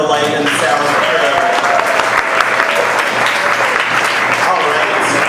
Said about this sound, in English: Round of applause for the light and sound crew.